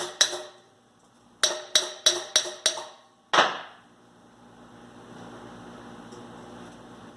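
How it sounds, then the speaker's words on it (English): Sharp metallic hammer taps on a Dana 60 axle yoke being driven onto the pinion: one early strike, then a quick run of five evenly spaced blows and a final louder hit, each ringing briefly, with a low hum afterward. "you just have to take a hammer, help it to get on there"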